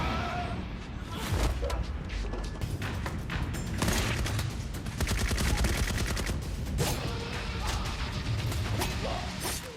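Rapid gunfire and sharp crashes from a war-film battle involving Japanese soldiers, loud and continuous bursts with impacts layered over a dense, busy mix.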